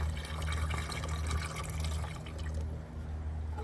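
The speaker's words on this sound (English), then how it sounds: "And let's pour it in." Liquid coolant pours through a funnel into a vehicle's coolant reservoir, a steady close gurgling fill that continues for several seconds and eases slightly toward the end.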